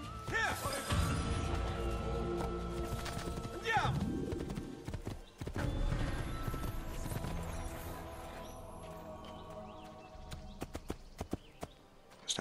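Horse hooves clip-clopping at a gallop in the video game Assassin's Creed II, a steady rhythmic patter under game music and effects, with a brief whinny and a crash, while someone talks over it.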